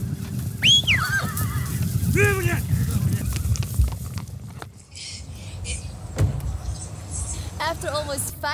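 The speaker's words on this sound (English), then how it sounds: "Oh my god, we've never seen so many horses." Several horses, a herd of hundreds in eastern Kazakhstan, neigh and whinny, shrill descending calls at different distances, over a rumbling vehicle background with occasional voices.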